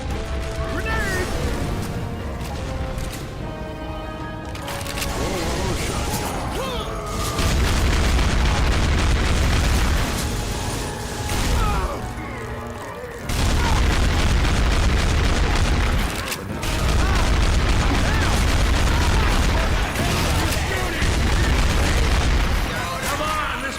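A Left 4 Dead 2 grenade going off: heavy, booming blasts with a deep rumbling low end that swell several times over a long chaotic stretch, loud and near, mixed with clatter and voices.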